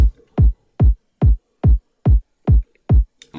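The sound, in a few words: kick drum hitting consistently in EDM beat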